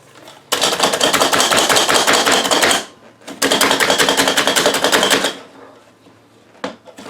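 Push-down food chopper dicing onions, heard as two long bursts of rapid, rattling clacks from the plunger and turning blades, each about two seconds, followed by quieter handling knocks.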